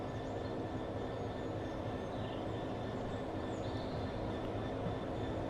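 Train approaching in the railway game Train Sim World 4, a steady, loud rolling rumble of wheels on track with a faint high squeal, continuous throughout with no speech.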